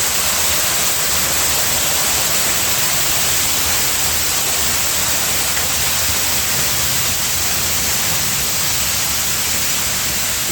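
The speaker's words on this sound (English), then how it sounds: "One of my favourite things," Constant, dense rushing roar of a waterfall, steady and unbroken throughout with no voices.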